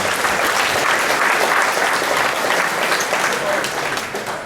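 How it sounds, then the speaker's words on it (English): Steady, loud applause from an audience at a high school track and field awards night, honoring the team's coaches, sustained throughout and tapering slightly at the end. "So another round of applause for our coaches, please."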